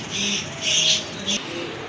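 Indian Kaptan high flyer pigeons coo close by in a few soft, low repeated calls over a steady background hum.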